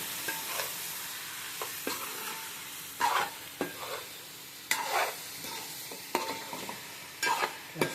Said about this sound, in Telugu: మిరప్పొడి ఇప్పుడు కూడా నూనెలో వాడ్చుకోవాలి. చూసారు కదా, ఇప్పుడు చేపలు వేసేస్తాము.